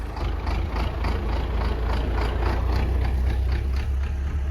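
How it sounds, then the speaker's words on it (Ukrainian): Tractor engine driving away from a potato field at evening harvest, a steady low diesel rumble holding at moderate loudness throughout, with faint rhythmic clatter above it and no voices. "Трактор вже їде додому."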